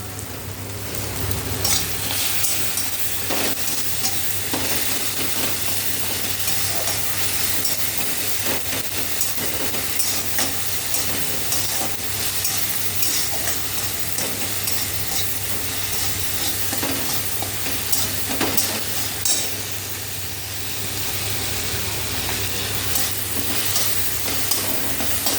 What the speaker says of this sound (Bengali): ডিমটা বেশ লাল লাল করে ভাজা হয়ে গেছে।